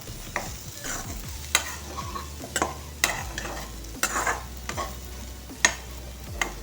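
Spoon stirring fasting-style potato bhaji mixed with crushed peanuts in a pan, with repeated scraping strokes and clinks over a soft sizzle, close and fairly quiet, no talk.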